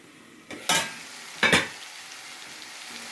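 Potato and chicken curry stirred in a pan, two distinct scraping, sizzling strokes about a second apart over a steady low frying hiss, close and moderately loud with no talking.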